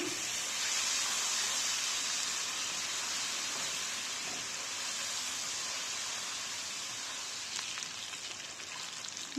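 Onion and garlic fry in a pan for a hilsa fish and green pumpkin dish, a steady, even sizzle like fine hiss that carries at near-constant loudness throughout, with no voices over it.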